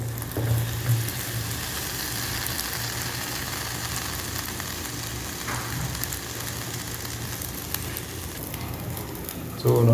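A coconut omelette fries in a pan over low heat, giving a steady, close sizzle that runs the whole time with a louder burst at the end.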